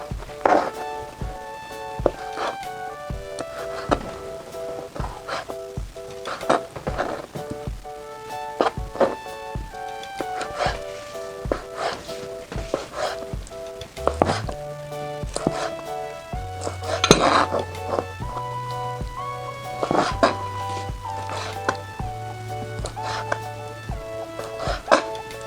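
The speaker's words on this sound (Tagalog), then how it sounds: "Hihiwain lang po natin to ng manipis." Knife slicing boiled beef skin thinly on a board, a steady run of close taps and clicks against the wood, with occasional pot and utensil clatter in a kitchen.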